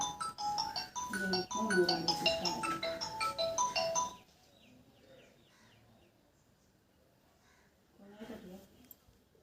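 A phone's electronic ringtone plays a bright, repeating melody for a few seconds, then stops, leaving quiet room noise and a faint voice.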